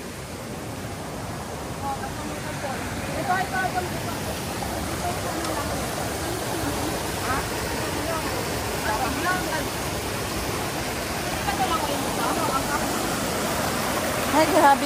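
Strong stream water rushes steadily on a trek toward a waterfall, a broad, constant wash of flowing noise that swells slightly toward the end, with people talking over it.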